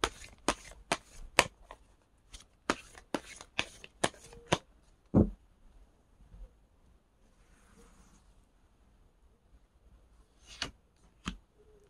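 Tarot cards are shuffled by hand in quick, crisp bursts of riffling and tapping, close and clear in a quiet room, followed by a sharp tap, a pause and a few more soft card sounds.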